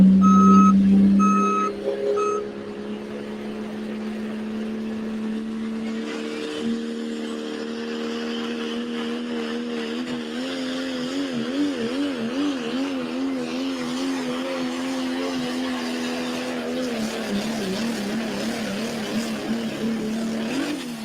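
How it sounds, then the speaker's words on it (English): Modified pulling tractor at a Badger State tractor pull, its engine exhaust roaring steadily through the run and shifting to a wavering, changed note toward the end, suggesting piston trouble; loud and continuous, with reversing-style beeps at the very start. "That develops a different exhaust note towards the end of the run."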